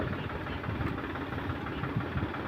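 A tractor engine runs at a steady, rumbling idle as a second tractor is brought in to pull out a stuck one. The low, continuous drone stays close and even throughout, with no talk.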